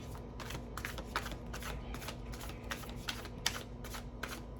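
A deck of tarot cards is shuffled with a quick, steady run of soft riffling flicks and taps, close and fairly quiet.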